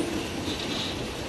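Passenger train on the Curitiba to Morretes railway running through forest, a steady, fairly loud rolling rumble of cars and wheels with no break or voices.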